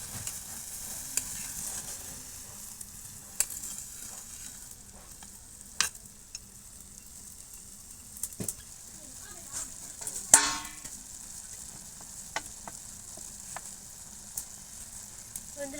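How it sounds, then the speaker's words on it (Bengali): Boondi being stirred into sugar syrup with a spatula, heard as a faint, steady background hiss with occasional soft scrapes and clinks of the spatula against the pan; no voices. "আমি খুন্তি দিয়ে ভালো করে ঘুটে এই চিনি শিরার সাথে বলদেগুলো মিশিয়ে দেবো।"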